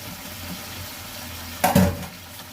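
Chicken with potatoes and Malabar spinach hits hot oil in a pan, giving a sudden sizzling burst of frying and stirring that flares loudly for a moment, then settles back into a low, steady hiss.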